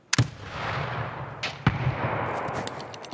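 A grenade launcher fires in the video game Escape from Tarkov, sharp detonation-like thumps at the start and around the middle of the clip, each followed by a rumbling tail, with smaller pops near the end.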